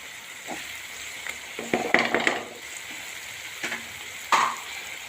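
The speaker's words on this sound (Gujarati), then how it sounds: "મસાલા એક મિનિટ શેકી લેશું" Whole spices, including cardamom and cloves, roast in oil for matar rice. A soft, steady sizzle is broken by a few louder stirring scrapes and light pan clinks nearby.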